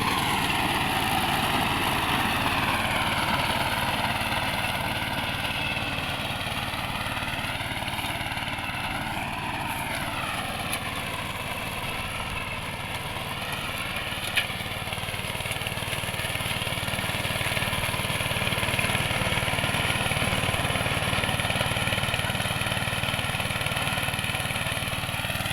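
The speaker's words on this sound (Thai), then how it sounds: "ตัวนี้รถตัดหญ้านั่งขับกระทิงนครเกษตรยนต์นะครับ วันนี้ทดสอบขับ รุ่นตัวนี้เป็นรุ่นสามล้อ เครื่องยนต์หกจุดห้าแรงม้านะครับ" Krathing Nakhon Kaset Yon three-wheel riding lawn mower with a 6.5 hp engine, running at a steady drone with a slight rise and dip in pitch midway, loud and close, no talking.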